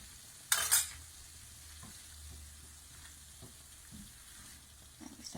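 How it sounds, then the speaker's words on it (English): Tomato puree frying gently in a pan for a restaurant-style chicken tikka masala, heard as a soft steady sizzle with stirring and a brief loud scrape or clatter near the start, plus faint utensil taps. "So we've got that really gently frying away"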